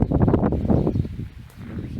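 Wind shaking walnut trees sets their leaves rustling in a brief, soft gusty swell that thins out after about a second.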